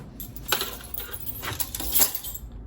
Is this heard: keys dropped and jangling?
yes